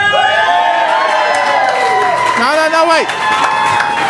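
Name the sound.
audience cheering and clapping at a political debate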